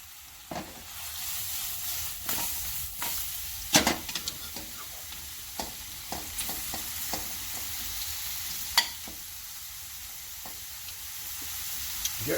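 Mushrooms fry in a pan for a masala sauce, a steady sizzle running throughout with intermittent stirring scrapes and utensil knocks against the cookware.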